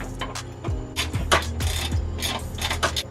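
A hand ratchet loosens engine bolts during an engine removal, producing a string of close, irregular clicks and metallic taps over a steady background hum.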